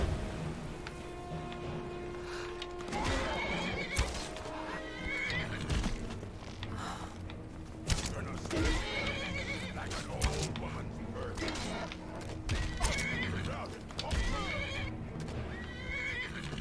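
A horse neighs and whinnies repeatedly amid clip-clopping hooves and clashing combat sounds in the video game Skyrim, with a voice speaking at times over the busy mix.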